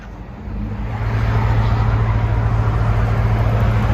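A 2002 Chevy Avalanche with a 5.3L V8 and a Vibrant bottle resonator rumbles steadily, its deep exhaust drone swelling after the first second and then holding a loud, even idle-like tone.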